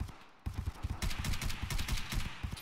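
Rapid gunfire from the online shooter game Escape from Tarkov, a dense run of sharp repeated shots starting after a brief quiet moment and continuing steadily, mid-distance and loud.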